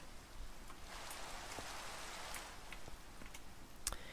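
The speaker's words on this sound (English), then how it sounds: "I didn't turn off the rain effect. It should look like it's raining." Rain effect in a Lord of the Rings video game, a faint, steady patter of raindrops with scattered small ticks and one sharper drip near the end, no talk.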